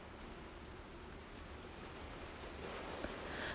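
Gentle ocean waves wash in a soft, continuous hiss, faint and steady, swelling slightly toward the end.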